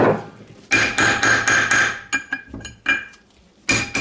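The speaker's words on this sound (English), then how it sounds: "I'm going to get a chisel and hit it right there on all sides and just kind of push that thing out" A hammer strikes a chisel to drive out a wheel bearing race on a trailer or classic car hub, sharp metallic blows ringing close and loud, several in quick succession with short gaps.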